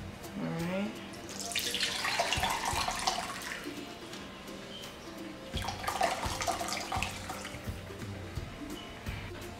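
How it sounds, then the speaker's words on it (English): Chicken consommé being poured while making birria chicken burritos, a steady liquid splash and trickle running through two broad bursts, close up, with speech heard faintly alongside. "now I'm gonna pour some of my chicken consomme"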